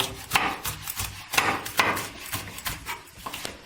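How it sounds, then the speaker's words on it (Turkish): A knife chops quickly and repeatedly on a cutting board, steady rhythmic taps of finely dicing a chili pepper, close and fairly loud, no talking. "Bunu da aynı şekilde ince ince küp küp doğrayalım biberimizi"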